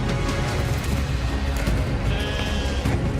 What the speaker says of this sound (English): The bighorn sheep come together to mate.